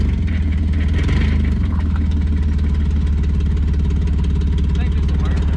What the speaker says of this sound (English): It's got an exhaust leak. Give her a little throttle.